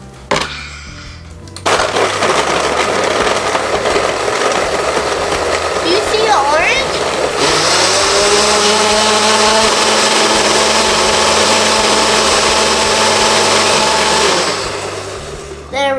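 A blender whirs loudly and continuously while blending an orange, carrot and mango smoothie, a harsh motor drone that starts abruptly, shifts pitch midway as the contents churn, and stops after about thirteen seconds.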